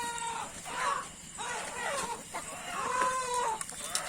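Fighting-breed chickens cluck and squawk repeatedly close by, with several bursts of agitated calling over steady background noise.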